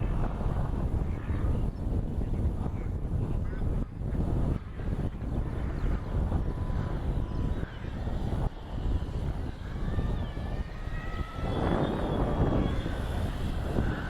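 A scratch-built STOL-style RC model plane flies at half throttle, its steady propeller and motor drone running continuously with wind buffeting the microphone and rising whine tones as it passes.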